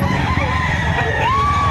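A rooster crows at a Saturday poultry market behind SM City Lipa in Batangas, its drawn-out call rising near and loud over a steady crowd murmur, with more birds clucking around it.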